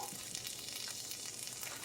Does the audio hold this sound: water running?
no